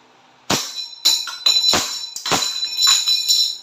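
A WE 2011 Hi-Capa T-Rex gas airsoft pistol shoots semi-automatic, five sharp separate cracks at irregular intervals, each with a bright metallic snap, close and loud, with no talking.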